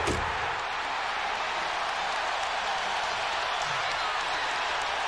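A packed basketball arena crowd at an NBA Finals game between Chicago and Indiana roars in a steady, broad wash of cheering and applause.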